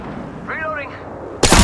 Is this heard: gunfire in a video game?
yes